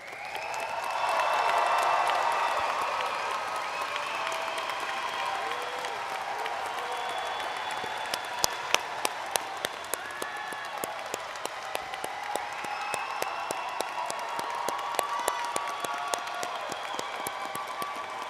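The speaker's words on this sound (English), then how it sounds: "I would at this time like to invite the audience to take a minute and cheer for the class of 2020" An audience at a 2020 Berea High School graduation cheers loudly at first, then settles into sustained applause with sharp individual claps standing out above the crowd.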